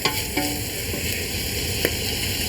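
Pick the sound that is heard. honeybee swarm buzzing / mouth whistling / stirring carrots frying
stirring carrots frying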